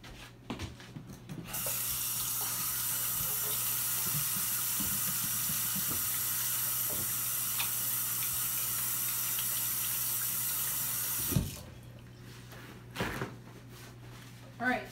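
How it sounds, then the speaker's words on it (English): A kitchen tap runs steadily for about ten seconds while hands are washed during home baking, a constant rushing hiss of water that then shuts off, followed by faint clinks and handling noises. "Remember, always wash your hands."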